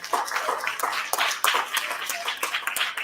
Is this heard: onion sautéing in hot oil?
no